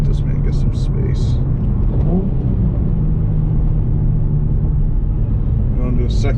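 Nissan 350Z Nismo engine pulling hard in first gear, a loud steady low drone from inside the cabin with a brief voice near the start and end.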